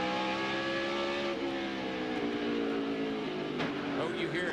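A NASCAR race car at the 2001 Food City 500, recorded onboard, howls at a loud, steady engine pitch that sags slightly near a sharp thump from a hard hit on the left rear, with announcers talking over it.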